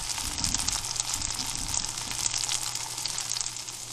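Food frying in a pan gives off a loud, continuous sizzle with a dense crackling hiss that holds steady throughout, close by and without talk.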